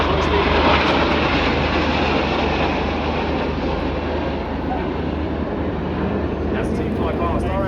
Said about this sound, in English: As the team fly past, our aircraft are approaching 40 years old.